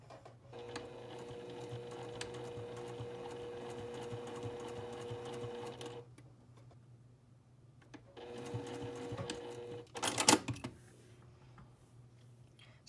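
A sewing machine stitching quilt binding along a crease with a small stitch length, running in a steady fast whirring drone, pausing briefly, then starting again before a sharp clatter near the end.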